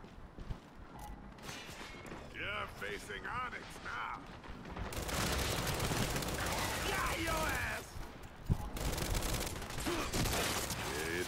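Bursts of rapid gunfire from the shooter game Gears 5 crackle in, growing dense and sustained in the second half, with voices talking over the combat.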